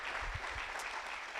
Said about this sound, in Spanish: Dale un fuerte aplauso a nuestro Señor Jesucristo.